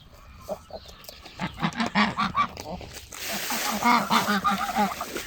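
Geese honk repeatedly in loud, nasal calls, several birds overlapping into a noisy chorus that swells toward the end.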